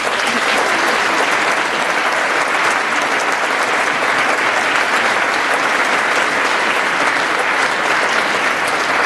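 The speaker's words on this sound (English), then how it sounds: "I ask that you demonstrate your appreciation by applauding the faculty." A large graduation audience at a commencement ceremony applauds the faculty in dense, sustained clapping that stays loud and even throughout, with no break.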